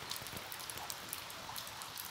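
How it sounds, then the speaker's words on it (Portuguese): Heavy Easter Sunday rain in northeastern Brazil makes a dense, steady hiss of falling water with scattered drips, fairly faint and continuous. "Muita chuva, choveu a noite inteira de ontem"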